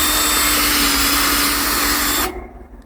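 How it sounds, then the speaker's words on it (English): A power drill bores a tap hole into a maple tree, a loud steady whine held close for about two seconds before cutting off abruptly into quieter rustling. "I don't have this hole drilled completely"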